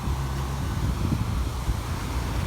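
Wind blows hard and steadily against the microphone, a dense, continuous roar with a deep rumble underneath that holds close and loud throughout.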